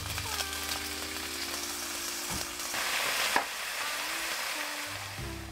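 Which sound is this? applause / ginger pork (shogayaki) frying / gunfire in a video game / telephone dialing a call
ginger pork (shogayaki) frying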